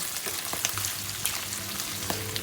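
Pesto pasta being stirred in a hot pan, steady close sizzling and frying with occasional soft scrapes of the stirring utensil.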